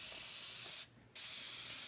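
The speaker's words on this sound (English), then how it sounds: "then you just spray with your spritzer" A handheld spritzer mists water onto a Chalk Couture chalk transfer, giving a soft, steady spray hiss that breaks off briefly in the middle and then resumes.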